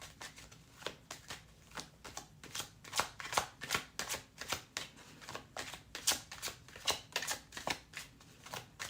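A separate deck of tarot cards being shuffled close by, with repeated crisp riffling flutters and soft slaps coming in irregular bursts throughout, with no talk over them.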